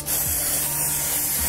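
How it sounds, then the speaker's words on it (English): An airbrush sprays makeup around a person's face and neck for special-effects zombie makeup, giving a steady, close hiss that runs continuously without talk. "So I'm just spraying around her face and her neck area"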